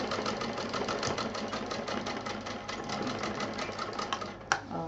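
Sewing machine stitching piping onto a fabric pouch: a steady, fast, close mechanical whir with an even stitching rhythm throughout, and a single sharper clack near the end.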